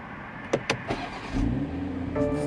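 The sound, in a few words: BMW X3 M40i engine starting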